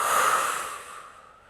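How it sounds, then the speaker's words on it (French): A single long exhale, a soft airy rush of breath that starts strong and fades away, released during a guided breathing exercise. "je souffle."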